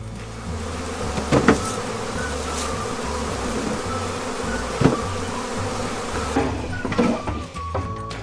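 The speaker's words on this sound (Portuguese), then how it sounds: "os apicultores precisam enfrentar diretamente milhares de abelhas que protegem a colmeia" Thousands of bees swarm around a beehive while beekeepers pull honey-filled frames, a dense, steady, close buzzing drone with a few sharper knocks and no talk.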